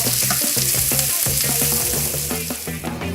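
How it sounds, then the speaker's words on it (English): Sausages sizzle loudly in a frying pan, a dense continuous crackle and hiss up close, with no talking. "Now these sausages have been sizzling away for a little while."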